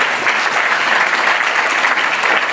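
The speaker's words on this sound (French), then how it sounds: "On les applaudit" An audience at a startup pitch competition applauds steadily, a dense, loud wash of clapping with no talk.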